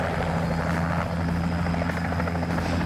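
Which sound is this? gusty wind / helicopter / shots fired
helicopter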